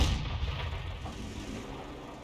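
An M44 artillery shell strikes in the World of Tanks game, leaving a heavy, low rumbling boom that is loudest at the start and slowly fades out.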